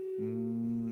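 A voice hums a steady, low, buzzing tone imitating a bee, held evenly for about a second with no other sound.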